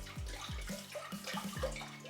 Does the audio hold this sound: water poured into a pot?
yes